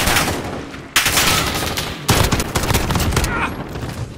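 Assault weapon fire from a video game, with dense automatic bursts that crack in loudly, the first beginning about a second in and another about two seconds in, then chatter on as rapid, rattling volleys.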